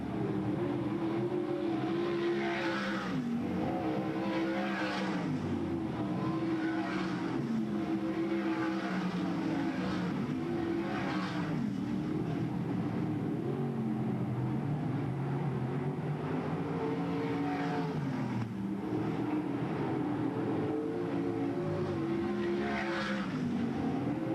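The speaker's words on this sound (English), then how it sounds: "Pouch and Freddie Raymer are putting on a show" Stock race cars battling at Bedford Speedway in 1994 fill the air with a continuous loud engine roar, pitch rising and falling as cars pass, with occasional tire squeal and no talking.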